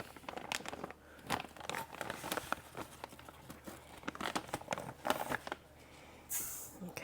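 Organic sugar from Costco poured into zucchini bread batter, a steady grainy rustle and crinkle of the bag with sharp crackly bursts, fairly faint and close, no voices.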